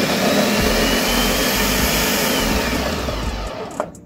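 A blender runs at full power, chopping pineapple for juice with a loud, steady roar and a rough churning texture that eases slightly near the end.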